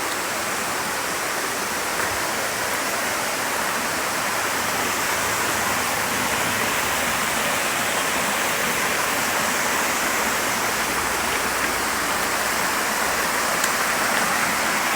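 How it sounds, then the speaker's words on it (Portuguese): Cachoeira do Lagendo, a waterfall with natural rock pools, gives off a constant broad roar of falling water, loud and steady throughout, with no voices. "Olha que maravilha de cachoeira."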